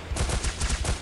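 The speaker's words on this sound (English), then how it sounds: "Oh, my squad mate is shooting him." Rapid automatic gunfire from the mobile shooter Gun Glory: Anarchy, a burst of close, loud shots in quick rhythm lasting about a second with no talk over it.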